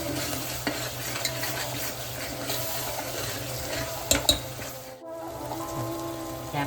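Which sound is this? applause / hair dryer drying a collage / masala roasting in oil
masala roasting in oil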